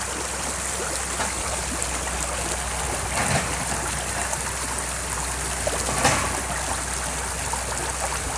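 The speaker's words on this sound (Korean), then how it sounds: "이래 하천에서는 이렇게 물이 잘 내려가고 있습니다" Steady water flowing down Songjeong Stream in Gijang-gun, a constant close rushing wash with slight surges around three and six seconds and no voices.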